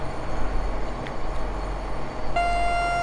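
A BR 642 diesel multiple unit in Train Sim World 5 rumbles steadily at a station stop, engine drone low and constant, and near the end a sustained tonal hum or chime comes in over it.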